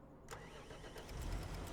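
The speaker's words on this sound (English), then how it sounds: "Let's use this tractor." A tractor engine in the Farming Simulator 25 game cranks and catches, then settles into a low, steady rumble that swells slightly toward the end, with no talking.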